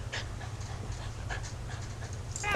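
A dog pants quickly and steadily, close by, in a rapid rhythmic huffing that runs throughout, ending with a short whimper-like squeak.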